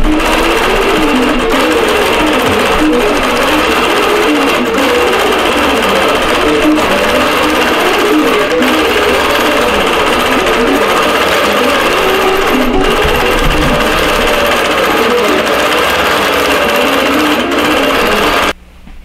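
A quilting machine stitches out vintage quilt blocks, a steady, loud mechanical whir with a fast, even needle rhythm that runs without a break for the whole stretch and stops right at the end.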